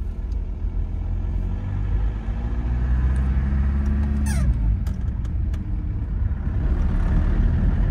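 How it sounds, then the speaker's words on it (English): An old turbo diesel economy car engine rumbles steadily and close, rising in a low, throaty rev with a brief whistling chirp partway through. "listen to that thing"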